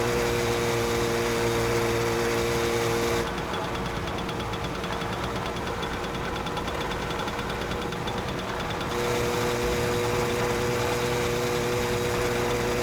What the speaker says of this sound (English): I don't get why the engine sounds so loud when you've got the helmet on.